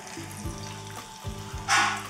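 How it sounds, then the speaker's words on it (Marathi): Fasting vadas (upvasache vade) drop into hot oil in a wok and fry at medium heat, giving a steady close sizzle with a few soft bumps and a brighter burst of crackling near the end. "कढईत तेल गरम केलेलं आहे, यामध्ये हे वडा सोडूयात"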